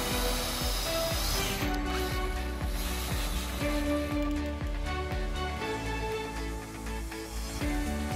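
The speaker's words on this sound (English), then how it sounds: "Drill out both rivets." A power drill grinds steadily through metal rivets, its pitch wavering as the bit bites, with no talking.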